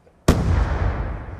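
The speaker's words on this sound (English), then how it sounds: "That was a firework." A firework explodes in Call of Duty: Black Ops 2, a single sudden, loud blast after a brief quiet, followed by a long rumbling tail that fades slowly.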